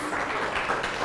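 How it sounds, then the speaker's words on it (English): Audience applause for four volunteers at a session on Alzheimer's, a steady wash of clapping from a room full of people lasting about a second at moderate loudness. "Let's give a round of applause to our 4 volunteers"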